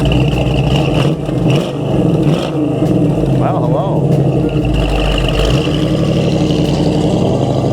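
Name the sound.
engine of a 1973 Dodge Challenger Rally 340 revving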